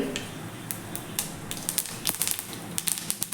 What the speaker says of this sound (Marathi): तेल आपले थोडेसे गरम झाले की त्यामध्ये अगदी छोटा एक चमचाभर जिरे